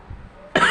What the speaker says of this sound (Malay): Bila cakap batuk.